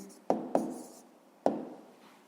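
Pen or chalk strokes set down a short written answer, three quick scratchy taps in an otherwise quiet room, close and faint with a soft decay after each stroke.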